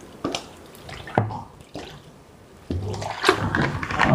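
Water is poured into a pot of bamboo shoots in a home kitchen, with splashy gushes and drips in separate bursts before a steadier pour, close and fairly loud.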